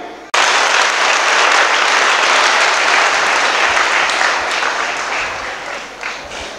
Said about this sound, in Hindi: कितनी तालियां बजाएंगे?